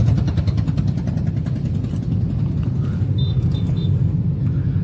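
A car creeps slowly toward a speed bump, its engine a steady low rumble close by with no distinct jolt standing out, and nobody talking.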